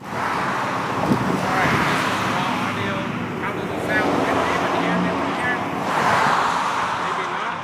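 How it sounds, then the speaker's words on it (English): Busy street ambience recorded outdoors, a steady roar of passing cars and traffic noise with swells as vehicles go by, while a person talks throughout over the road noise. "Okay, we're in a noisy street. How does it sound? Hopefully the cars don't run me over."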